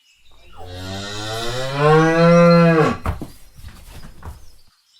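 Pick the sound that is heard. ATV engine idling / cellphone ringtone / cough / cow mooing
cow mooing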